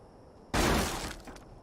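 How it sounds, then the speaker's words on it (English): A barrel smashed in the fantasy RPG The Bard's Tale IV: a single sudden loud splintering crash that breaks out of quiet, then scattered debris settling and fading. "And it wouldn't be an RPG without smashing barrels."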